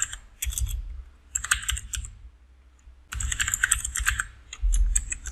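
Fingers type on a computer keyboard in close, crisp bursts of clicking keystrokes with short pauses between runs, with no voices.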